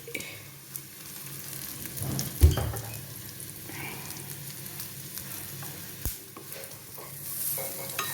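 A spoon stirs garam masala and pepper powder into vegetables frying for a vegetable stew in a pan, with a steady soft sizzle, scraping strokes and a sharp clink or two, and no talking.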